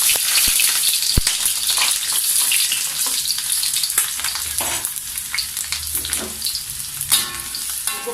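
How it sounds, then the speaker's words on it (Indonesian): Shallots sautéing in a hot pan for gulai ayam, a loud continuous sizzle and crackle with occasional stirring knocks, close and alone without speech. "ini saya tumiskan bawang merah"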